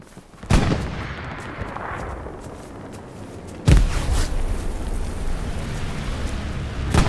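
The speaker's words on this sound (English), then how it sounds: "we're getting shot at from out in the field" Gunfire in a WWII shooter game, with sharp loud shots at about half a second, four seconds and seven seconds over a steady rumbling battlefield wash, and no speech.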